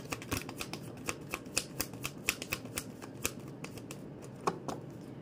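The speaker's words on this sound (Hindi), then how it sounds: "last shuffle" Tarot cards being shuffled by hand, a rapid series of crisp riffling snaps and flicks at close range, irregular bursts continuing for several seconds with no talking.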